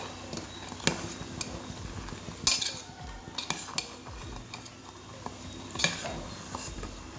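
A spoon stirs sweet pongal in a silver pot, scraping and clinking against the metal in irregular strokes, with a few sharper knocks, heard close up and without talking.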